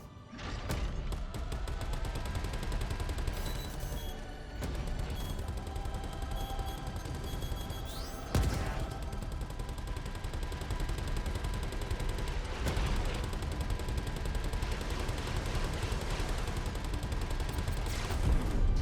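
Fixed guns on an Ares Ion or Inferno starfighter fire in rapid, sustained bursts in the space game Star Citizen, a dense continuous mechanical rattle under engine hum with occasional heavier thumps, loud and steady throughout.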